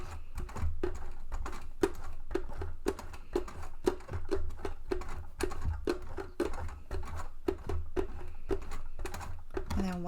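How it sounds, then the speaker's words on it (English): A sewing machine, hand-cranked across zipper teeth, clicks in a steady, rapid series of slow stitches, each tap distinct and close by. "lower the presser foot and hand crank across those zipper teeth."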